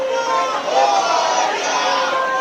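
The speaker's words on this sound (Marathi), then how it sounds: "लालबागच्या राजाच्या दर्शनासाठी सध्या भाविकांची गर्दी झाल्याचं पाहायला मिळतं" A large crowd of devotees gathers for darshan of Lalbaugcha Raja in Mumbai, a dense, continuous murmur of many voices and chatter, loud and close with no pauses.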